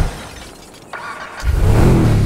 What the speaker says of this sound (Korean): 제가 배기음 한번 들어볼게요.